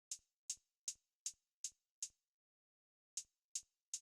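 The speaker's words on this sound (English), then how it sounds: "we have the hi-hats coming in." Soft hi-hat hits in a beat, nine crisp ticks at a steady pulse with a gap of silence before the last three, quiet and alone.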